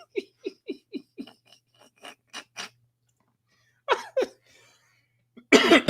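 A man coughs in a quick run of sharp, dry bursts after laughing, then a pause before two more harsh coughs and a loud rough exhale at the end; close and alone, without talk.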